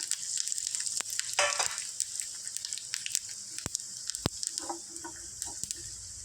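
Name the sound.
chana dal, urad dal and cumin frying in oil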